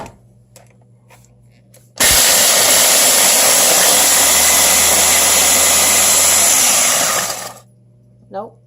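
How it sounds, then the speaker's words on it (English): Food processor grinding graham crackers into crumbs, a loud steady whirring roar that starts abruptly, runs for about five seconds and cuts off, with quiet kitchen sounds and faint talk before and after. "putting the last of the graham crackers in the food processor"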